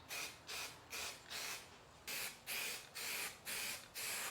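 Spray primer hisses from an aerosol can in about nine short, even bursts, laid down as light coats over spots of peeling paint being repaired.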